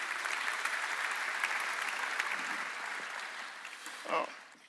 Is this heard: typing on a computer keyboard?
no